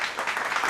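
A brief burst of several people clapping together, steady and fairly close.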